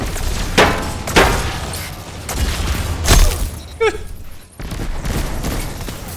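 Weapon fire in Destiny 2, with several sharp, loud shots spaced a second or so apart over a busy game backdrop of mechanical clanks and ambient rumble, with a brief lull near the end.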